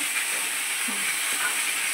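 Hilsa fish frying in a pan gives a steady, even sizzle with faint crackle, constant throughout and fairly quiet, with no voices.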